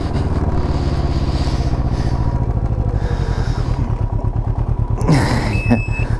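A Can-Am Ryker 600 three-wheeler creeps into a parking lineup, its engine idling with a steady, loud, close throbbing rumble, and a sharp metallic clank and rattle near the end.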